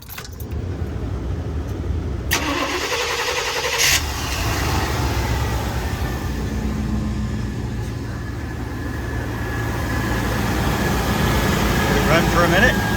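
A car engine runs steadily after transmission work, a loud, close idle that fills the whole stretch, with keys jangling and a starting surge near the beginning and people talking over it.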